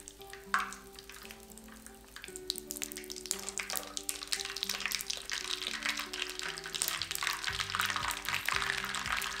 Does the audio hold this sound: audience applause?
no